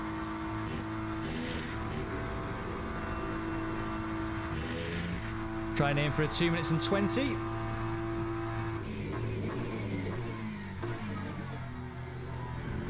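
A BMW GT race car in Le Mans Ultimate drones and revs steadily, its engine tone rising and falling under a voice, with a brief burst of tire squeal midway.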